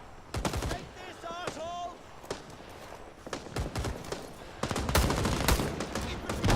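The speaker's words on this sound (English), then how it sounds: "Seems like the machine guns are putting up a lot of cover and fire." Machine gun fire in the video game Rising Storm 2, sharp bursts and single cracks at varied distances with short pauses, growing denser toward the end, with voice-like sounds mixed in.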